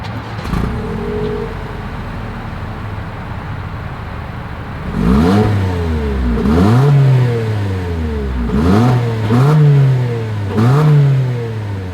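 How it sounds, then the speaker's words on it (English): A 2025 Toyota Corolla Cross engine and exhaust idling and then revving, a steady low idle followed by several rising and falling revs in a row, loud and close, with no talk. "As always, here is that exhaust clip."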